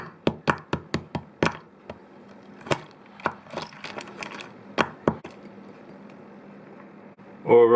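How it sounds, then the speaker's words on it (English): Rapid wooden-sounding knocks and taps of a muddler pressing into a glass while mixing an Old Fashioned with bitters and a splash of cold water, a quick burst of sharp hits followed by scattered thuds, close and clear. "And we're just going to muddle that up a bit."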